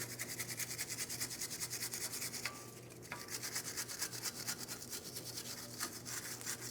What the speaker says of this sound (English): Now we're going to clean inside of the circular port. I'm using my wire brush